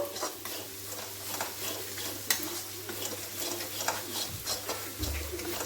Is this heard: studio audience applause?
no